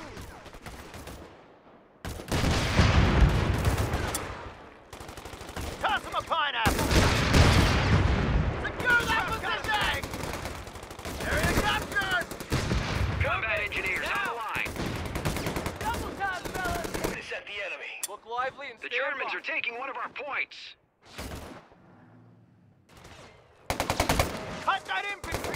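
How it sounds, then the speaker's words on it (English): Heavy gunfire in the video game Company of Heroes 3 during a US Forces skirmish, with loud bursts of machine-gun and rifle fire and booms, shouted voices among the shots. "They're shooting at you!"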